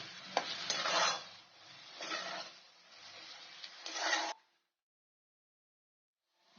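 Ginger garlic paste stirred into golden fried onions for a dhaba-style paneer masala; a close, steady scraping stir and soft sizzle rise and fall in three or four strokes, then stop abruptly into silence.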